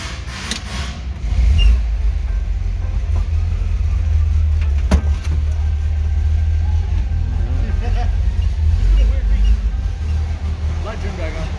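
1969 VW Bus engine running as the van drives off, a loud low rumbling drone that steps up in level early on and continues steadily, with voices talking over it.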